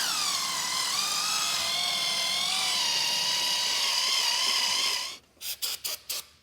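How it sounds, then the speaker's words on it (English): Valves being lapped in a Subaru engine with a power tool, which holds a loud, steady whine whose pitch wavers for about five seconds, then stops and gives way to a few short, sharp bursts. "So let's lap some valves."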